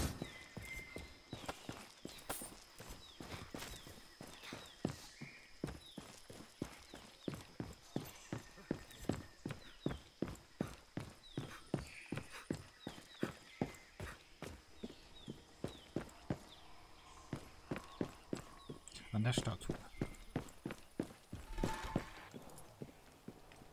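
Rhythmic clip-clop of horse hooves in Far Cry 6 walking at a steady pace, close and even, with a short burst of other noise near the end.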